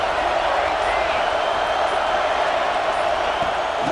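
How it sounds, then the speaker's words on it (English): A stadium crowd in a football video game roars as a steady, dense wash of cheering noise, loud and continuous with no breaks. "This crowd rising up, sensing that its defense needs some help."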